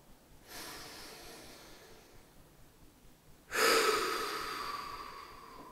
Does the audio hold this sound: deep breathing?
yes